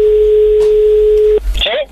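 A telephone busy signal follows a hang-up: one steady tone runs for over a second, then cuts off and gives way to a brief burst of other sound.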